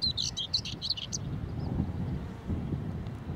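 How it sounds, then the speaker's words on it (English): Bright bird chirps from a flycatcher sit above low wind rumble on an open walk between Berwick and Seaford, a burst of short calls in the first second or so, then fading to faint scattered notes. "Flycatcher of some description."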